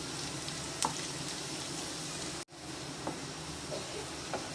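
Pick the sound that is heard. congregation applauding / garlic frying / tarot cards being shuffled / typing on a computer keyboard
garlic frying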